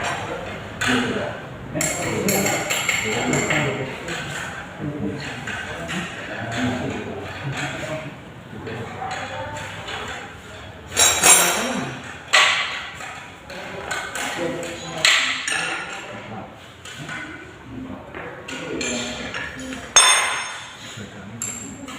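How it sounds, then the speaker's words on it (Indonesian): A size 12 combination wrench loosening power steering pipes on a hydraulic rack-and-pinion steering system, giving scattered metallic clinks and taps over a steady workshop background throughout. "Dengan menggunakan mengereng kipas 12 kita lepas ini dari pipa-pipa power steering."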